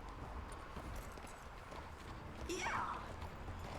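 Horse hooves clip-clop in Red Dead Redemption 2, a soft steady plodding with a brief whinny-like cry toward the end and a short spoken word.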